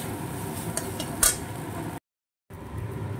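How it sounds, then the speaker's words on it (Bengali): Rice with bay leaf is stirred in a pan as it fries, giving light scraping and a few soft metallic clinks with one sharper knock, over a steady low kitchen hiss; there is a short gap of silence. "তেজপাতা দিয়ে চালটাকে একটু নেড়ে চেড়ে ভেজে নিচ্ছি"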